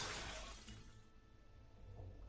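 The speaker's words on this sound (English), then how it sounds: "the door at the end of the hallway is made of reinforced glass. I focus all my strength and kick it in" Reinforced glass door at the end of a hallway kicked in, in the video game Vampire: The Masquerade - Shadows of New York: a bright shattering crash followed by tinkling debris that fades out quietly.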